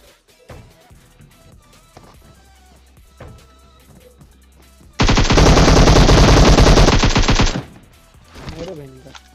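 A sustained burst of automatic gunfire in PUBG, loud and dense for about two and a half seconds, set between quieter in-game sounds, footsteps and scattered effects.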